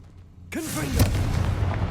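The Confringo fire spell in Hogwarts Legacy, cast as a whooshing streak that ends in a booming blast, followed by a rumbling low echo.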